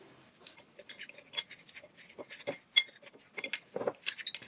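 Homemade garlic salt ingredients are stirred together in a bowl, giving close, irregular scraping and light clinking of a utensil against the dish with no talking.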